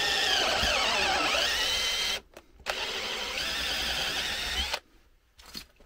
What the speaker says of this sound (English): So I'm drilling and tapping these using a combination drill tap.